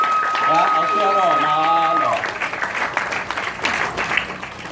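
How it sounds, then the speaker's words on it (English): An audience at a ceremony honoring a suicide prevention walk bursts into applause, with voices over the first seconds, then the clapping continues alone, fairly close. "Let's give another round of applause for our younger brothers and sisters from the South."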